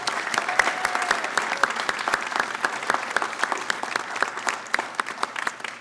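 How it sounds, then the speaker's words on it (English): A round of applause for inductees at an Academic Hall of Fame ceremony, a steady patter of many hands clapping in a hall, with a few sharp individual claps standing out near the microphone. "So how about one more round of applause for all of our inductees this evening?"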